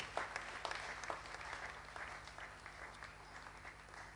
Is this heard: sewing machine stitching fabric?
no